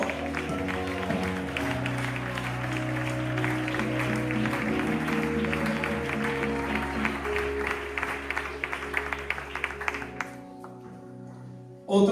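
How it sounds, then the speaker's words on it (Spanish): Applause from a congregation at a Bible study gathering, a sustained wash of clapping over a steady background hum, fading out abruptly near the end. "Dale un fuerte aplauso."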